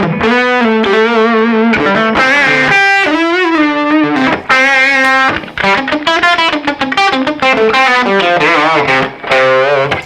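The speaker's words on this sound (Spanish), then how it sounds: "en mi opinión, esta distorsión está bastante bien" Heavily distorted electric guitar run through a Boss GT1 multi-effects unit, playing a continuous melodic line with sustained bent notes, loud and unbroken with no talking.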